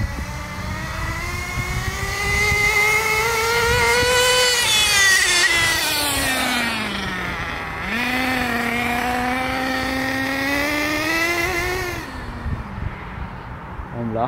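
A Force V32 outboard-driven motorboat engine holds a steady drone, then revs up and down in long sweeping pitch changes before cutting out near the end, with voices faintly underneath.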